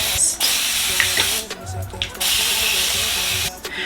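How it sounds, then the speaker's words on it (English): Water from a spray bottle hisses in short misting bursts onto the ends of hair, close to the mic, with pauses between sprays and someone speaking in between. "I am just gonna do a little bit of water on the ends"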